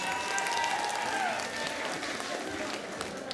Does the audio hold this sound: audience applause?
yes